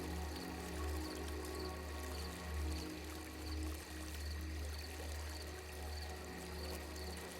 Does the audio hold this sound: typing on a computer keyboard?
no